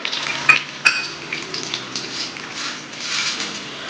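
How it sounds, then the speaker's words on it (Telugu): Cumin and mustard seeds crackle in hot oil and ghee, a steady close sizzle with two sharp metallic clinks of a utensil against the pan near the start. "అందులోకి జీలకర్ర, ఆవాలు వేసుకుంటున్నానండి"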